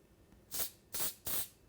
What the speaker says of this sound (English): I took this spray and I sprayed them.